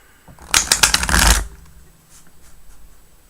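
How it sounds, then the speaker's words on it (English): A quick riffle shuffle of tarot cards, a dense crisp flutter lasting about a second, close and loud, followed by quiet handling. "One more shuffle."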